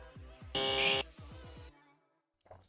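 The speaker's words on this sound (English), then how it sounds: "I've been, clicking the buzzer way too quick" A quiz game buzzer is pressed during a trivia game, a loud, harsh electronic buzz lasting about half a second amid quick repeated clicks, then a faint short sound after a brief silence.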